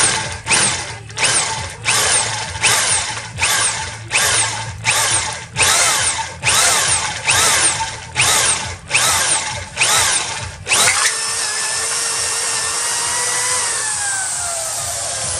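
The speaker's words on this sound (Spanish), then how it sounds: "estoy abrazando bien el taladro" A power drill whirring in repeated short bursts while drilling for reinforcing bars in a fence, each revving up and cutting off in a steady rhythm, then one long continuous run at the end; loud and close.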